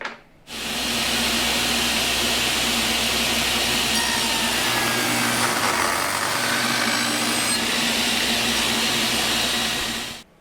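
A table saw rips poplar with a Freud 10-inch industrial glue line ripping blade, a loud steady whining roar that starts abruptly, holds evenly for about ten seconds and cuts off, with no talking.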